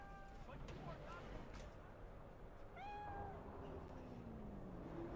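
A cat meows in the video game Cyberpunk 2077, a few short rising mews heard faintly over a low background hum while a person talks.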